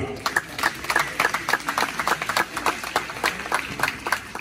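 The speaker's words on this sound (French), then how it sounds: "Vous les applaudissez avec moi." Applause from a university graduation audience in Haiti, a dense run of many hands clapping at a steady close level, with no voices over it.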